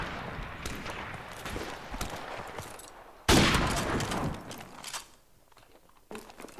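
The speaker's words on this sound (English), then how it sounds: "I've had a few cheap semi-auto spam kills" Semi-automatic gunfire in Call of Duty: Modern Warfare Remastered, rapid spammed shots in bursts with a sharp loud blast midway, then quieter scattered pops and clatter toward the end.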